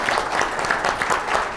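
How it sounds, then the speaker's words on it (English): Applause from an audience at a financial planning forum honoring veterans, a brief, even patter of many hands clapping at moderate volume in an indoor room. "if we can give a round of applause for the true American heroes"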